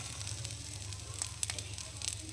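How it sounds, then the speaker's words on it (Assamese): Eggplant with sliced onion and chili dry frying in a pan with salt and turmeric, giving a steady, quiet sizzle with a low hum beneath it and a few brief crackles. "ইয়াতে দিছোঁ এইটো একদম শুকান ভাজি বনাইছোঁ ড্ৰাই ফ্ৰাই।"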